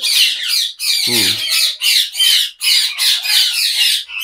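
Ringneck parrots on a farm squawk in a dense, continuous chorus of harsh, shrill calls, close and loud, with one lower rasping call standing out briefly.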